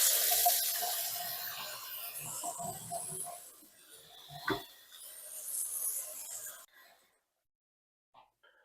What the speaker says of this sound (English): Just get some water in here.